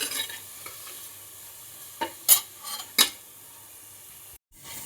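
Onions, corn kernels and capsicum cooking in a pan for a paneer roll, a low background sizzle cut by a few distinct spatula scrapes and clinks against the pan, then a brief drop to silence; no voices.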